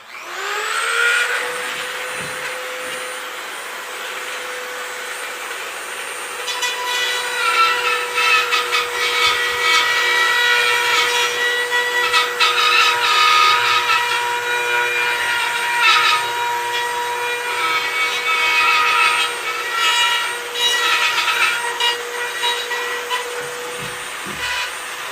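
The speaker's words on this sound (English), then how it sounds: "Now right here with my Dremel tool." A Dremel rotary tool grinds into a deer head mount form, a loud high-pitched whine held steady throughout, its tone roughening and wavering as the bit bites into the material.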